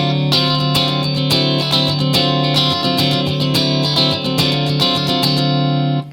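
Distorted electric guitar strums a sharp 9 chord over and over in a rhythmic pattern, close and loud, with no talking.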